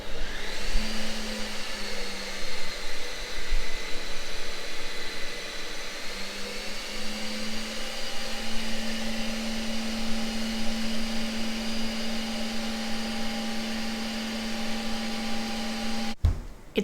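A Ninja Creami ice cream maker processes a pint in one loud, steady motor whine with a grinding hum, running continuously for most of the stretch before stopping abruptly near the end; no talking over it.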